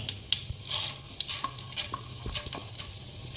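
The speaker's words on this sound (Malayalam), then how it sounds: "കടുക് ഏകദേശം പൊട്ടി തുടങ്ങിയിട്ടുണ്ട് അപ്പം നമ്മൾ അല്ലെങ്കിൽ നേരത്തെ എടുത്ത് വെച്ച ജീരകവും ആ ഉഴുന്നും അങ്ങോട്ട് ഇട്ട് കൊടുക്കുകയാണ്" Mustard seeds crackle and pop in hot oil in a pan, with sharp scattered bursts over a soft sizzle as cumin seeds and urad dal go in, and a few faint stirring scrapes.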